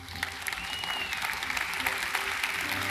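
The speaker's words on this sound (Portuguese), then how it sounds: "Vamos ficar em pé, vamos aplaudir esse Jesus lindo." A church congregation claps continuously for a few seconds, a dense, even wash of applause from many hands filling the room, with a faint voice in the background.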